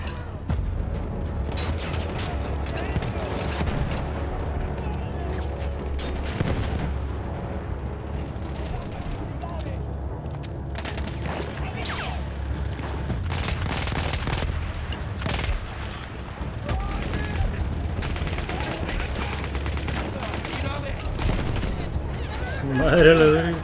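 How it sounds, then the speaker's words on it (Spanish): Battlefield 1 gunfire and explosive blasts rumble on steadily, with dense overlapping shots and booms and a loud burst near the end, under talk. "Todavía sigue disparando esa madre."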